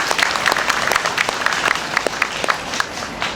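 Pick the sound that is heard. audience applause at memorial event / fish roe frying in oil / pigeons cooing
audience applause at memorial event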